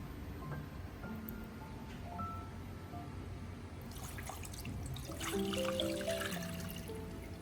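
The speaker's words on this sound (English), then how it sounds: "I pour the filtered ginger water into a pot" Filtered ginger water trickles and splashes faintly into a pot, growing a little fuller toward the end, with no one speaking.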